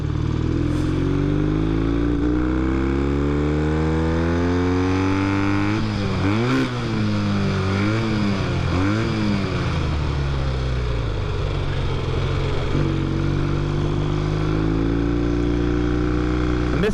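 Loud, close engine of a 1965 Triton motorcycle revving hard, its pitch climbing and dropping through several quick gear changes in the middle before pulling steadily again, continuous throughout.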